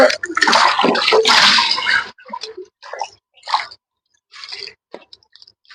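Tap water runs into dishes being rinsed for washing, a steady splashing rush at first, then breaking into short separate splashes and clinks with gaps of quiet.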